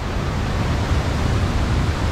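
The Tolminka river rushes with a dense, steady broadband roar of flowing water, loud and unbroken throughout.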